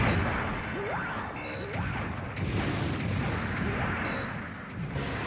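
Repeated booming cannon blasts with whooshing shots from the video game Mobile Suit Gundam: Journey to Jaburo, over a dense, rumbling backdrop of game noise.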